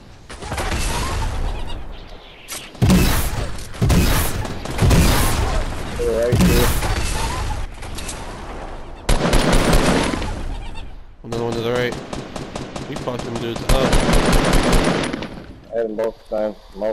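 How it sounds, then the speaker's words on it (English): Fortnite gunfire in bursts of automatic shots and heavy booms, loud and close, broken by short pauses, while a player talks over the action. "I'm getting shot."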